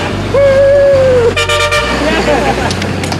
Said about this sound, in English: Come on, everybody, keep honking, keep honking.